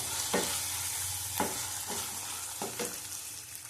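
Halved tomato frying in a pan for a rohu fish curry, a steady soft sizzle broken by several stirring scrapes, quiet and close with no talk.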